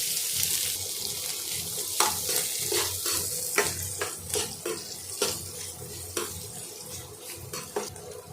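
Steady sizzling of chopped onions frying in hot oil with cumin, close by, with scattered crackles and pops breaking through the hiss.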